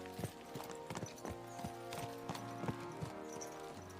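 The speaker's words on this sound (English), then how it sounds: "Let's really spur these horses on, eh?" Horse hooves clip-clop steadily in a video game set in old Bohemia, a rhythmic run of sharp hoof strikes over a continuous background of game ambience and music.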